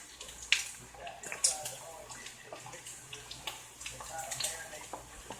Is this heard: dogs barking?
no